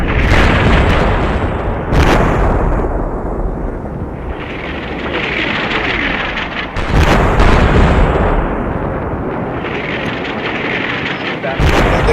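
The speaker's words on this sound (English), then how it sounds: "You can hear the ordnance destroying these hilltop OPs." Artillery ordnance pounding hilltop observation posts in the war game Combat Mission Shock Force: a loud, continuous roar of heavy booms and rumbling blasts, with several sharp, very loud impacts standing out over the sustained barrage.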